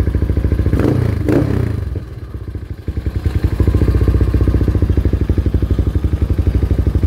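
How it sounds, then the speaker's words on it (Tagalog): A Yamaha NMAX scooter bored to 220cc and running on its stock ECU idles close by with a loud, rapid, rhythmic throb, rising briefly as if revved, alongside some mechanical clatter. "220cc running on stock ECU."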